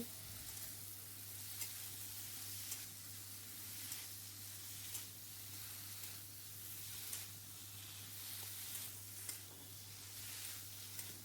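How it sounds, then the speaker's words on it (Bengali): Okra (bhindi) frying on high heat in a pan, a steady close sizzle and hiss running throughout with periodic soft stirring scrapes and a low hum underneath, no voices. "তারপর আমি এটাকে একবারে হাই আঁচে 5 মিনিটের জন্য এভাবে ভেজে নেব"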